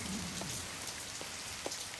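Steady storm rain patters on a surface, a dense hiss with a few individual drops standing out.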